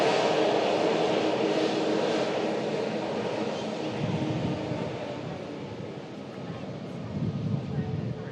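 A TUI Boeing 737 MAX airliner at a plane-spotting spot makes a broad, steady jet roar that slowly fades, then swells slightly near the end, with some wind buffeting the microphone.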